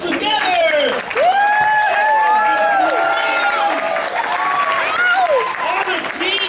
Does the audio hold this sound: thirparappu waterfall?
no